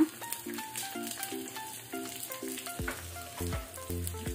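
Garlic, dried red chilli and asafoetida fry in hot oil for a lima bean curry, giving a steady, soft sizzle that runs beneath a melodic musical backing.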